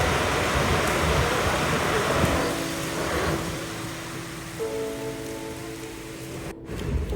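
Steady rain falls throughout a train journey from Guwahati to Badarpur in northeast India, a continuous dense hiss with a low rumbling hum from the moving train beneath it and no voices.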